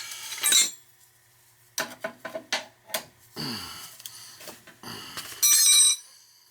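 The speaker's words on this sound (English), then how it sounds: "Phone's ringing off the flipping hook." A telephone bell rings in short loud bursts at the start and near the end, with clinks and knocks in between, during work on a Beckett oil burner that will not fire up.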